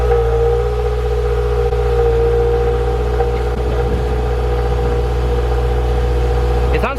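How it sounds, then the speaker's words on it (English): A Subaru WRX/STI on its stock exhaust runs steadily with a low droning engine tone and a faint whine, loud and close, holding an even note with no revving throughout. "get some before and after clips of what the car sounds like"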